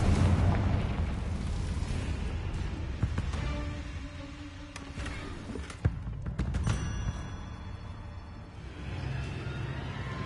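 The Confringo fire spell explodes in the Hogwarts Legacy video game, a loud rumbling blast with crackling bursts and sharp pops that decays into a lingering roar, with no voices.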